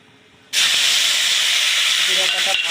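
Onions hitting hot oil with cumin set off a sudden, loud burst of sizzling that holds as a steady, close hiss after a quiet start.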